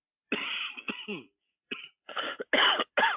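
A series of close, harsh coughs and throat-clearing bursts in quick irregular succession, loud and alone.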